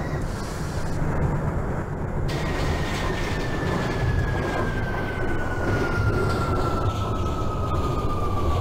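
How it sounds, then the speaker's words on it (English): Subway train running in the OpenBVE train simulator game, with a loud continuous rumble of wheels on track and a thin electric whine gliding slowly downward as it moves. "This is a Utica Avenue bound A local train."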